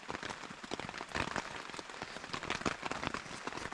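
Rain falls steadily at a Lake Superior campsite, pattering densely and close on a surface with a constant hiss throughout.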